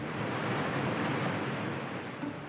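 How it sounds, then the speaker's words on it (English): Ocean waves wash along the California coast in a steady, broad roar of surf that stays loud and unbroken with no voices over it. "The calming waves of the California coast."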